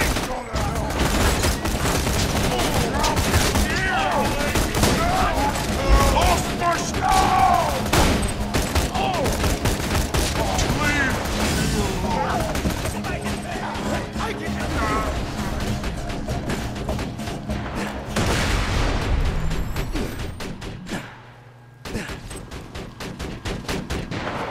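Gunfire in the co-op shooter Borderlands 2 as players shoot at Rakks, dense rapid bursts and booming shots almost nonstop, with players talking underneath and a short lull near the end.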